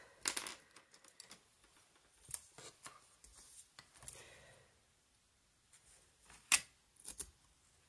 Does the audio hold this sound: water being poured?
no